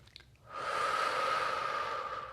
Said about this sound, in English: breathing in through the nose, and then slow, controlled exhales out through pursed lips